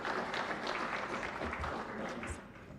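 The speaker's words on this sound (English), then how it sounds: "a bigger round of applause for Honorable Murole Mukasa" Brief applause from the audience at a live-broadcast national service delivery survey report event, a soft, washed-out clatter of clapping that fades slightly toward the end.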